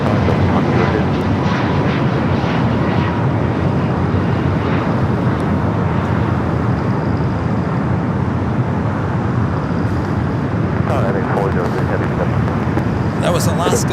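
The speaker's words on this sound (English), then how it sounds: "Flight 349 heading to Spokane, Washington is 737 MAX 9." An Alaska Boeing 737 MAX 9 roars steadily at Los Angeles International Airport, a loud, continuous broadband engine rumble held for the whole stretch, with faint speech-like murmurs underneath.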